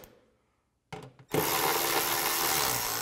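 Power tool tightening the bolts on a front CV axle of a 2003-2010 BMW X3: a brief rattling burst, a pause, then a loud, steady whir running alone to the end.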